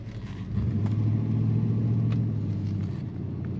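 A 1964 Oldsmobile Jetstar 88 Celebrity Sedan pulls away from a stop, its V8 engine rising into a low, steady rumbling drone heard from inside the car, moderately quiet.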